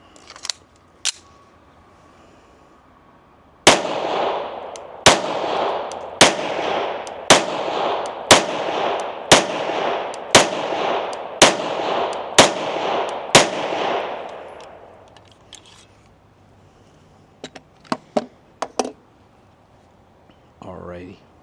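Sig pistols firing a steady, quick string of about eleven loud shots in even rhythm, each crack ringing out briefly, with a couple of isolated shots before and scattered clicks and handling noise after.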